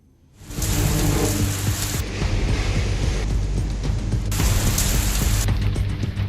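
Heavy unseasonal rain pours down steadily on an Uttar Pradesh farm area, a dense broadband hiss that swells in after a quiet start and holds loud to the end, with no voices.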